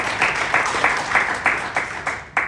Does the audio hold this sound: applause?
yes